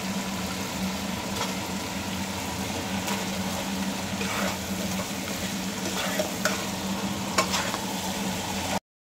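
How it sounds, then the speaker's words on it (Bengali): Spice paste for fish head moong dal is stirred and fried in a pan, giving a steady, close sizzle with continuous scraping from the spoon throughout. "মশলার মধ্যে দিয়ে ভালো করে কষিয়ে নেব।"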